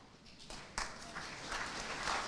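Audience applause at a school awards night, scattered clapping that starts thin and swells into a fuller burst of hands in a hall, with some murmured voices underneath.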